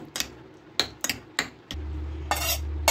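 A spoon clinks and scrapes against a bowl as egg is beaten into Mughlai paratha batter, with several sharp close taps followed by a low steady hum and a final rattling stir.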